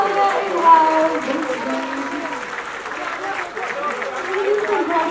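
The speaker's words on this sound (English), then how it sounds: "And can we have a round of applause for Alia Iqbal?" Audience applause at a fashion collection launch and ramp walk event, sustained steady clapping of a crowd mixed with background chatter and some voices over it.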